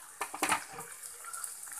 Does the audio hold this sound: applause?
no